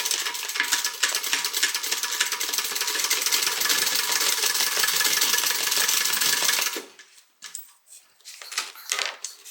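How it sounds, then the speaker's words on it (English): Sewing machine stitching a half-inch seam on a Cianna crossbody bag: a dense, steady mechanical whir at close range for about seven seconds, then stopping, followed by a few faint handling clicks and rustles. "And now we're going to stitch this."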